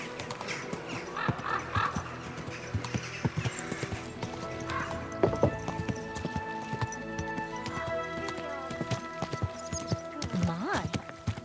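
In Kingdom Come Deliverance II, horse hooves clip-clop steadily, a horse whinnies near the end, and a dog barks now and then, all under someone talking.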